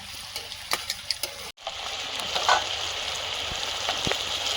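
Masala with onion and ginger sautéing in a hot pan gives a steady close sizzle, with a few sharp stirring clicks early on and a short break before the frying noise swells again.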